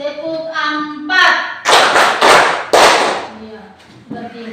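Loud, close hand claps from children doing the 'tepuk 4' classroom clapping game come in a short rhythmic run, framed by sung or chanted voices before and after.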